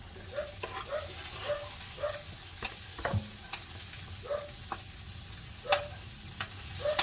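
Garlic and onion sauté in a pan for a Filipino ginisang vegetable dish. A steady close sizzle runs throughout, broken by repeated spatula stirs and scrapes, with no talking.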